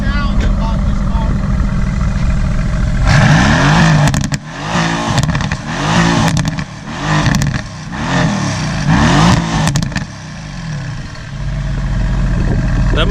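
A car engine rated over 500 horsepower revs hard in a series of loud, rising bursts between idling stretches, close by, with people talking around it.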